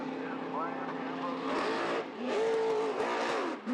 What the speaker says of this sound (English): Watch him feather that throttle.